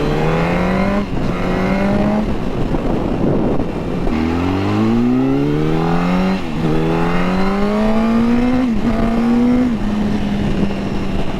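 A 2007 Yamaha R1 sportbike engine runs loud and close, its high-pitched inline-four note rising and falling through repeated revs, with no voices.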